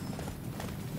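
Horse hooves clip-clopping in the Attack on Titan: Wings of Freedom video game, a steady, moderately loud rhythmic trot filling the whole moment with a dense game soundscape behind it.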